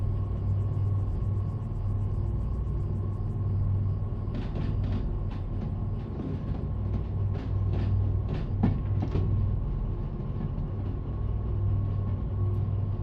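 A long freight train rolls along in the train simulator game Derail Valley, a steady low rumble with a constant hum, joined midway by a run of sharp rail clicks and knocks.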